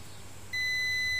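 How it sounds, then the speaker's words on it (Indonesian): An electronic buzzer wired to a capacitor under test starts a steady, high-pitched continuous beep about halfway through, close and loud over a low background hum. "Kita ambil buzzer dulu, oke, buzzer."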